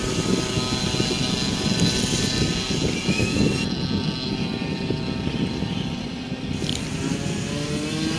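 A fast remote-controlled toy motor whines steadily at a baywalk in Tanauan City, Batangas, a continuous buzzing drone like a small engine running at high speed throughout, fairly loud and close.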